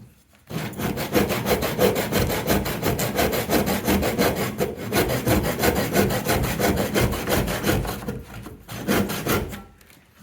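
A handsaw cutting partway into a piece of timber for a carpentry joint: loud, fast, rhythmic back-and-forth rasping strokes, close up, with brief pauses near the middle and toward the end.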